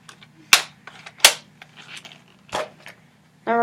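Nerf Modulus Stryfe or Evader blasters fire darts in sharp, snappy cracks, two strong shots and a later third, with clicks and handling noises in between and a brief voice at the end.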